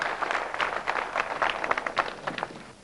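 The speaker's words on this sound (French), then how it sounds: "On les applaudit et puis on leur souhaite bonne chance." Audience applauding the school teams at the Génies en herbe quiz contest between Belgium and the Democratic Republic of Congo in 1998: a steady patter of many hands clapping, moderately loud, with a few sharper claps standing out.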